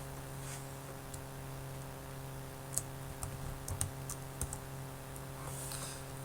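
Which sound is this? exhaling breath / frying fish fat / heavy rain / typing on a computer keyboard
typing on a computer keyboard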